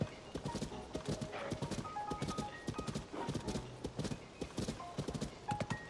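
Epona the horse trotting along a road in the game Zelda: Tears of the Kingdom, a brisk, even run of close hollow hoof clip-clops that carries on steadily throughout.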